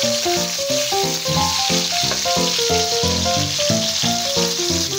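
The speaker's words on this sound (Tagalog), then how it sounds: "Tostahin muna natin yung bawang, sibuyas, sili bago natin ilagay ang kamatis" Garlic, onion and chili fry in a pan with a steady, fairly loud sizzle that runs throughout beneath prominent background music.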